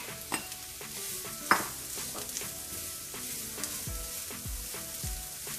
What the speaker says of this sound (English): We're gonna fry onions sauteed until it gets a little softer.